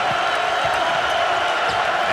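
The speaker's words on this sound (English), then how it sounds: "Look at this crowd." A Kentucky basketball arena crowd roars in a constant, loud wash of cheering that continues without a break, with faint thuds mixed into the noise.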